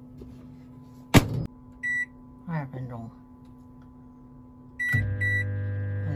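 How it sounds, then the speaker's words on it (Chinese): A microwave oven in a camper van heats buckwheat flakes. A thump and a short series of keypad beeps come first while a voice speaks briefly, then a beep starts a steady, close, low hum. "搁到微波炉里"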